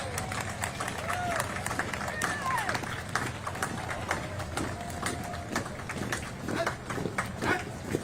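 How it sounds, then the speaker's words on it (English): Spectators at the Auburn Veterans Day Parade clap for marching Air Force Junior ROTC cadets, a steady outdoor patter of applause and crowd murmur with scattered footfalls, under an announcer talking over a loudspeaker. "Give them a round of applause."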